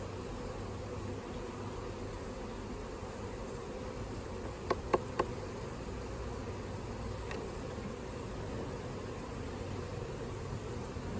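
A dense, steady hum of many honeybees around a hive, constant and close, with a few faint clicks partway through.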